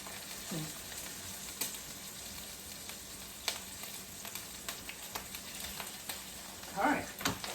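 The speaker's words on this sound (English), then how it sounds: "we're going to put into this skillet, we're going to put in our garlic, and garlic burns extremely quick" Garlic and pesto frying in a skillet, a soft steady sizzle with occasional scrapes and stirring clicks, fairly quiet and without talk.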